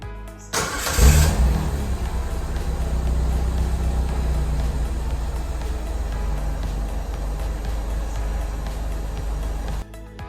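A Holden Astra TS Bertone with stock exhaust cranks and fires up with a sharp roar, then settles into a loud, steady idle for several seconds before cutting off.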